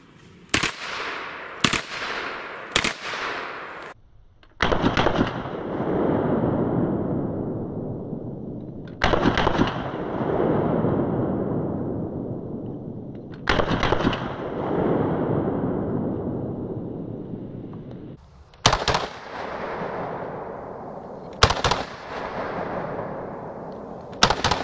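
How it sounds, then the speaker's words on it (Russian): A Stechkin APS pistol fires on automatic in short bursts, loud and close. Each rapid string of cracks is followed by long rolling echoes that ring out for a few seconds before the next burst, with no talk. "Первый раз вообще стреляю из боевого Стечкина."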